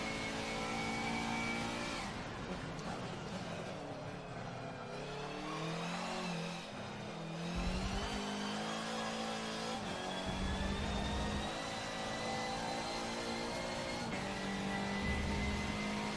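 A turbocharged race car engine in a racing video game revs steadily throughout, its pitch climbing and dropping through gear changes with a constant whine, loud and continuous with no talk.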